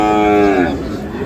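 Sahiwal bull calves at a cattle market, one mooing loudly and close by, a single drawn-out low call falling in pitch over about a second amid market background noise.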